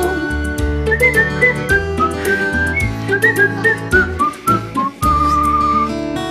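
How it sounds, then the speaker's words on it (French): A clear, loud whistled melody rises and falls over a steady musical accompaniment, with long held notes near the end. "Sifflez, sifflez une chanson."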